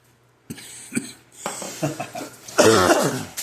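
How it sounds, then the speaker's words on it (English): A couple of sharp coughs near the mic, followed by a harsher burst of coughing and throat clearing, with no talking. "I didn't cough on the ribs"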